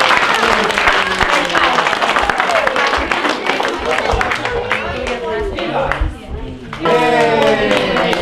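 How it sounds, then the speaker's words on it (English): Loud, close applause at a family reunion, a dense burst of clapping from a room of relatives with voices mixed in, briefly dipping before swelling again near the end. "let's give a big clap for this guy"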